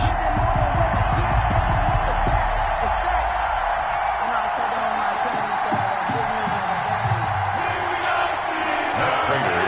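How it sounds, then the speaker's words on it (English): A stadium crowd roars and cheers steadily before kickoff of a Cleveland Browns versus Pittsburgh Steelers game in an EA Sports NFL video game, a dense continuous wall of crowd noise with a commentator talking over it. "This crowd is ready as their guys get set to match up between the Cleveland Browns and the Pittsburgh Steelers"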